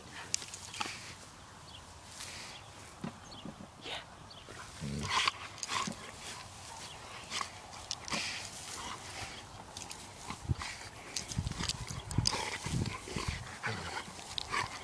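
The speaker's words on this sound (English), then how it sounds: "You're a wet doggy." A wet dog plays in garden sprinklers on a sunny day, with irregular scuffling, splashing and movement noises close by against a steady hiss of spraying water.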